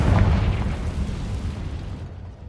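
A Confringo spell explodes in Hogwarts Legacy with a loud, heavy boom that hits at once and rumbles down over a couple of seconds before fading to quiet.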